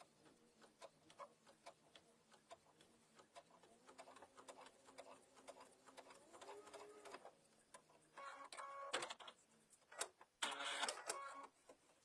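A sewing machine stitches quarter-inch seams along the sides of a mug bag, with a rapid, even ticking of stitches near the mic and louder, busier bursts toward the end. A little quiet talk.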